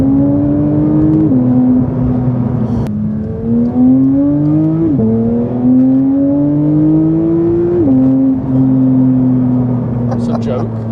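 A Porsche 992 GT3 engine drones loudly from inside the cabin, its pitch climbing smoothly through the revs and dropping sharply at each gear change, three shifts in a row under a steady whirring hum.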